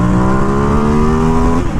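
2017 Ducati XDiavel S motorcycle on a highway launch during a test ride, its engine roaring loud and close with a steady rising drone that eases off at the end, no talking.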